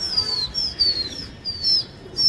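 Pigeons being released by hand during a pigeon-flying contest, with repeated bright descending chirping calls over a steady outdoor background.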